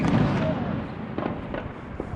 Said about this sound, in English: they're throwing fireworks at roofs